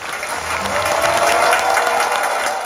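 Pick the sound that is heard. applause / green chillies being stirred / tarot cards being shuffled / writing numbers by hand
applause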